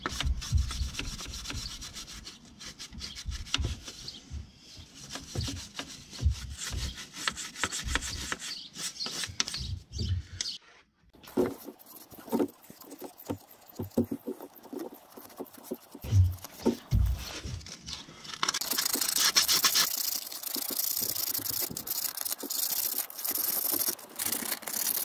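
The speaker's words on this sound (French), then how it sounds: "c'est parti pour le nettoyage du plan de joint" Scraping clean the gasket face of a Mercedes C 220 coupé OM611 diesel engine during a water pump replacement: close, rough rasping strokes repeat in quick bursts, pausing briefly and shifting to a harsher, steadier scrub toward the end.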